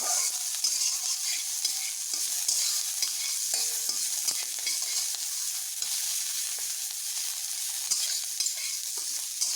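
Onions and green chillies fry in a pan for a pumpkin dish, a steady close sizzle with light stirring scrapes throughout and no talk.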